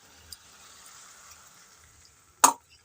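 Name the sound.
cabbage cooking in spices in a pan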